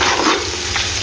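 Browning onions frying with garam masala in a hot pan give off a steady, close, continuous sizzle over a brief moment, with no voice.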